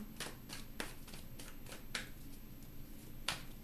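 Tarot cards riffled and shuffled in quick, crisp bursts, several sharp flicks and snaps close by, with no voices.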